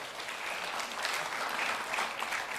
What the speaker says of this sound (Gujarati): એક તાળી એમના માટે થઈ જાય પહેલા તો.